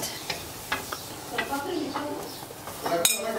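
Corn flour and wheat flour being stirred and roasted in a pan make a soft, continuous scraping and scuffing with occasional light metallic clinks, including a brighter clink near the end, while people talk nearby.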